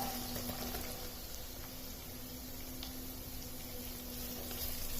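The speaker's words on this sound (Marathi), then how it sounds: "कांदे सुद्धा आता गुलाबी होईपर्यंत परतवून घ्यायचे।" Finely chopped onions and garlic fry in a pan, giving a steady soft sizzle and crackle close by, with faint stirring scrapes and a low hum underneath.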